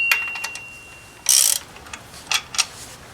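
Ratchet wrench working on a pulley bolt during a water pump job on a Dodge Ram, giving short bursts of sharp metallic clicking, close and loud, separated by quiet pauses.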